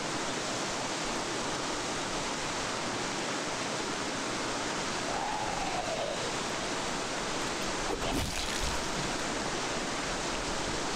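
Steady rushing river water in the game Zompiercer, a constant broadband wash filling the whole stretch with no voices, with a faint brief tone midway and a small knock near the end.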